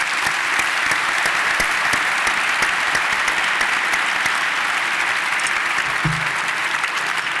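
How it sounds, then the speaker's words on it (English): A gala audience applauds its sponsors with full, continuous clapping from a large crowd throughout, loud and even, and a brief low murmur rises near the end. "Please give them all a round of applause."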